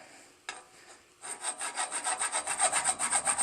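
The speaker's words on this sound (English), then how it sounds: "Don't want to file too much down, just enough to give it a good cleaning contact" Ignition contact points on a Murray garden tractor magneto are filed lightly, making a quick run of close, rhythmic rasping strokes after a single tap and a short pause, with no talking.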